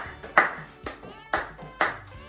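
Applause for a game show contestant, a teacher named Charles, comes as short bursts of clapping, about four sharp swells in quick succession, each fading fast, close and fairly loud.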